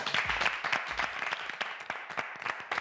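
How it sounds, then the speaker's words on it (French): An audience on a reality TV music show applauds a guest, a scattered patter of claps from a small group, fairly faint and uneven, with some low rumble at the start. "Applaudissements pour Zao, s'il vous plaît."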